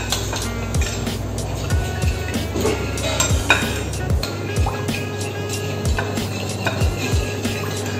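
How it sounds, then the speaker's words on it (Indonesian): Tapioca flour is stirred and mixed with water in a bowl, making repeated scraping and swishing strokes in a steady rhythm with a soft sizzle-like rustle between them. "Ini mau gue campur air guys"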